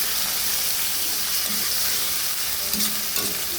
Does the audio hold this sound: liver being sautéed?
yes